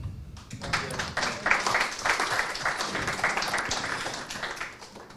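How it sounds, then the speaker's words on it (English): An audience at an academic conference on the future of European universities applauds for a speaker. Scattered clapping quickly swells into fairly loud, sustained applause with individual hand claps standing out, then eases off slightly toward the end. "applause him as well."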